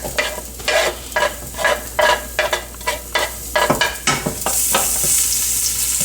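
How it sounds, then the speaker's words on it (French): Garlic, ginger and onions frying in hot oil, stirred in steady strokes: a run of regular scraping bursts over a low, constant sizzle that swells into a brighter, steady hiss at the end, close and fairly loud, with no voices. "lorsque l'huile est chaude, je mets tout ce que j'ai prévu comme ingrédients. Donc, l'ail, le gingembre et"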